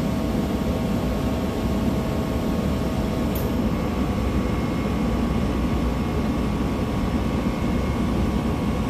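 A Copeland digital scroll compressor hums steadily at 46% capacity, a constant droning whir with a faint tonal whine and no change in rhythm, heard alone.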